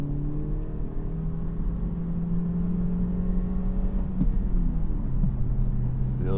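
Daily-driver car accelerating from inside the cabin, engine tone climbing steadily and then dropping as it shifts gear, followed by renewed pull, with continuous road rumble underneath.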